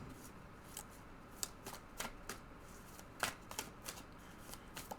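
Tarot cards are shuffled by hand, a quiet run of crisp riffling flicks and taps in an uneven rhythm, close but soft, with no talking.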